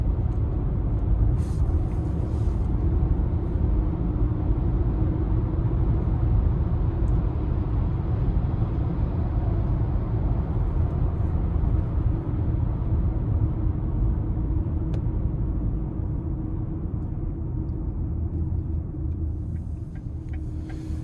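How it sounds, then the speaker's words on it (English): A steady low road rumble and tire hum fill the cabin of a 2026 Lincoln Nautilus Black Label AWD while driving, continuous and fairly loud, with no talk. "Road noise is a bit prevalent"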